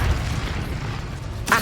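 Confringo explosion spell in the video game Hogwarts Legacy, a steady low rumbling boom that holds through, ending in a sharp bright burst at the close.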